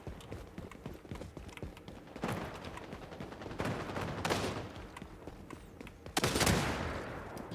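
AK rifle fire in the online shooter XDefiant, heard as short bursts of rapid shots separated by pauses, with the loudest, closest volley near the end over faint background clicks and footsteps.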